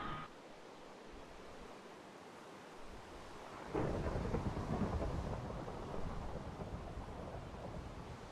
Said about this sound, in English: Not just rain, thunderstorm.